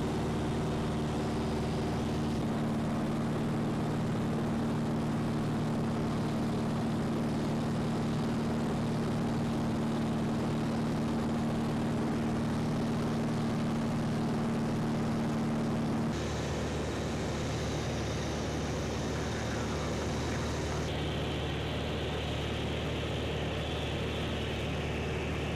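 A propeller airplane drones steadily overhead while flying across Ithaca toward the airport, its low engine hum constant and fairly loud, with the tone shifting partway through as the aircraft changes position.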